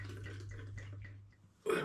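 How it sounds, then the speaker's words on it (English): Hopped cider is poured into a hydrometer tube, giving a soft trickling and dripping over a steady low hum, then a brief louder splash at the end. "So I'm just going to pour 100ml into my hydrometer tube."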